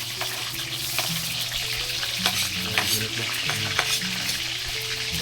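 Onion and garlic sauté in hot oil, sizzling loudly and steadily with frequent clinks and scrapes of a utensil stirring the pan, close up and without speech.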